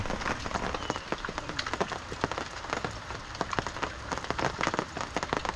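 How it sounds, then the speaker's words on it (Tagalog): Rain falls steadily at a riverside campsite, a dense patter of drops striking nearby surfaces with irregular sharper taps, close and moderately quiet, with no talk. "Isa sa solid talaga na weather habang nagka-camping is yung umuulan tulad nito."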